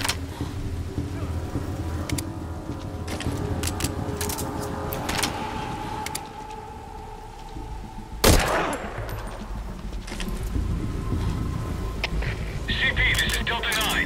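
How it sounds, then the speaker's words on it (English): Gunfire in the stealth video game Metal Gear Solid V: Ground Zeroes, set against a dense rain-like wash, with a sharp loud crack breaking out partway through before the steady ambience resumes. "We've got unidentified gunfire."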